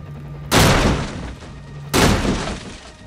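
Two sharp, loud blasts about a second and a half apart as an explosive barrel is smashed and detonates in S.T.A.L.K.E.R.: Shadow of Chernobyl, each a broadband burst that decays over about a second, with no talking.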